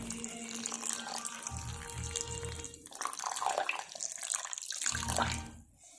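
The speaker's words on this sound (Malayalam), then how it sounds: "ഞാനിപ്പോൾ പച്ചവെള്ളമാണ് ഒഴിച്ചു കൊടുക്കുന്നത്." Plain water trickles and splashes from a vessel into a bowl of puttu flour mix, a close, uneven pouring stream with short pauses and a final stop.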